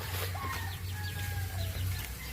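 Chickens on a backyard flock cluck and call in short bursts, with faint birdsong above a steady low hum; a Rhode Island Red is among them.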